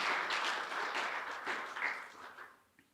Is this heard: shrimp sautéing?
no